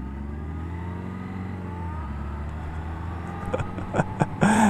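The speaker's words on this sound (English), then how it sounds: "Nice third gear start there, Jonny B." A motorcycle pulls away from a third gear start, its engine droning steadily and climbing in pitch as it accelerates, with wind buffeting and a few sharp bumps toward the end, no talking.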